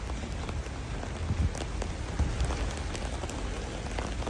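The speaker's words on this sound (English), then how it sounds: "Man, raining again." Steady rain pours onto a street surface, a dense, even hiss with scattered close drop taps throughout, loud and unbroken with no talk.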